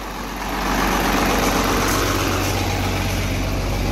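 A 12-valve diesel truck engine with a swapped 48RE transmission idles just after starting, a loud close low rumble that swells within the first half second and then settles into a steady, even clatter without any voices.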